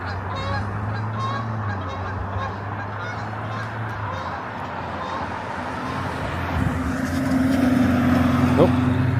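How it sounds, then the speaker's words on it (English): Geese honk repeatedly nearby over a steady engine-like rumble and outdoor background noise. "These guys are doing some honking too."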